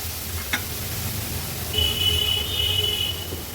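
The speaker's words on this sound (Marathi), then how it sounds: "वाटण तेलावर थोडंसं परतून घ्यायचं आपल्याला" A paste of garlic, green chili and coriander sautés in oil for a fish curry, making a low steady sizzle up close. A thin high electronic tone sounds partway through, with no talking.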